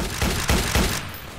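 Gunfire in a Roblox WW1 trench battle, three quick loud bursts in a row, then the din fading off, with no talk.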